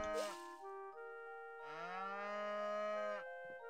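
A cartoonish cow moos from the Harvest Moon One World farming game, first a short tonal call, then a long drawn-out moo with a sliding pitch, clean and isolated.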